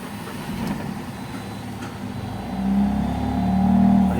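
A Mahindra Supro BS6 diesel van engine runs nearby during DPF high regeneration, check-engine light on, a steady low rumble that swells louder in the second half as it revs up.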